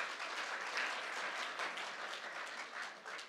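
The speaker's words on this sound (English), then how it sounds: "How about a big round of applause for them and all of our outstanding Liberal team" Crowd applause at a Lunar New Year gathering in Toronto for a team of Liberal MPs: dense, steady clapping from many hands filling the room, sustained at an even level without speech.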